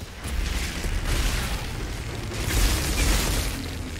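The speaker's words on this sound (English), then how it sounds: "That's a sniper." Heavy, booming blasts roll through a firefight in Outriders. One burst comes early, and a second, louder boom swells near the end over a dense, rumbling background.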